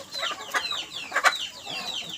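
Roosters and hens cluck close by in quick overlapping calls, with a couple of louder squawks over a faint background.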